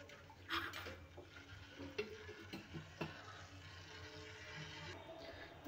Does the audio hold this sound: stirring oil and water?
yes